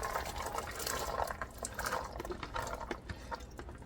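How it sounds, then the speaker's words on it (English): Peas and broth pour into a pot for old-fashioned Southern-style black-eyed peas, making a steady close splashing, sloshing pour that runs through the whole stretch with small irregular plops. "And so I'm going to pour the peas in."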